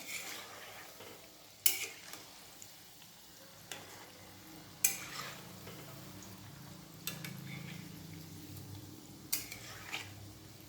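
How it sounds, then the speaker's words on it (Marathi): Shankarpali, sweet milk-dough diamonds, frying in hot oil over a lowered gas flame, a steady soft sizzle with occasional sharp clinks and scrapes of a utensil stirring and turning them in the pan. "सर्व शंकरपाळे तळून घ्यायचे आहेत"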